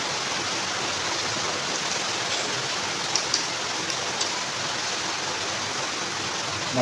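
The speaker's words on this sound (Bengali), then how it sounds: "প্রচন্ড বৃষ্টি হচ্ছে" Heavy monsoon rain pours steadily and close by as a dense, continuous hiss, with a few faint drips and taps standing out.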